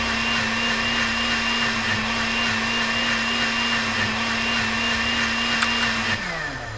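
A drink mixer runs in the point-and-click game Deponia Doomsday, giving a steady, loud electric whir with a constant hum that holds evenly for several seconds, then winds down at the very end.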